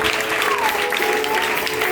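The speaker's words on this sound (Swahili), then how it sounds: "Pigia Yesu makofi." A church congregation applauds steadily throughout, dense continuous clapping filling the space, with a faint sustained musical tone underneath.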